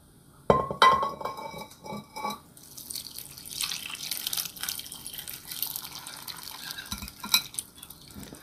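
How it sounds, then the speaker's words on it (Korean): Cooled soy sauce poured into a glass jar of pickled vegetables: a glassy clink at the start, then a steady trickling, splashing pour with small knocks, close and moderately loud. "식혀놓은 간장을 부어 주실 거예요."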